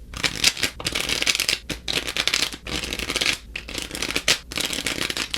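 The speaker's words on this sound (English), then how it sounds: "go ahead and give it a few shuffles" A deck of playing cards shuffled several times in a row, each riffle a dense papery flutter separated by short pauses, close and fairly loud with no talking.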